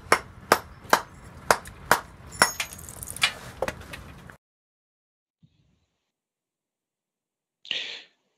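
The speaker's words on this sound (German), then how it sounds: "Hier sind lose Schalen und die tragen wir ab mit Hammer und Meißel." A hammer strikes a chisel in a quick series of sharp knocks, loosening render from a building cornice, followed by a brief pause and then a crumbling, scraping fall of loose material.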